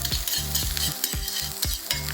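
Onions stir-fried in a pan over medium heat, crackling sizzle punctuated by regular scraping strokes of a spatula, roughly four or five stirs in a steady rhythm, close and clear with no talking.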